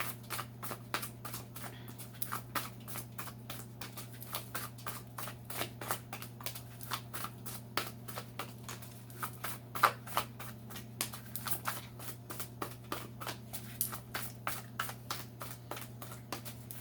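Tarot cards being shuffled by hand in a steady run of quick riffling taps and flutters for over fifteen seconds, close and fairly quiet over a low constant hum, with no talking.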